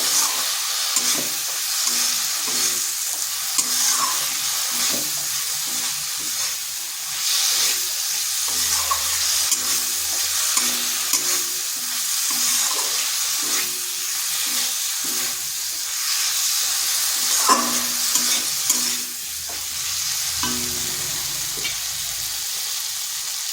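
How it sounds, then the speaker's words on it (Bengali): Fried potatoes are stir-fried with spiced masala in a pan, a steady close sizzle with repeated spatula scrapes and stirring clatter throughout, no voices. "এখানে দিয়ে দিচ্ছি ভেজে রাখা আলুগুলো আলুগুলোর মশলার সাথে একটু কষে নেব"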